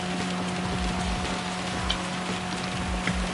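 Heavy rain falling on the Red Bull Ring in Gran Turismo Sport, a dense continuous wash of raindrop hiss over a steady low engine drone and hum, with faint tyre-spray textures and no voices.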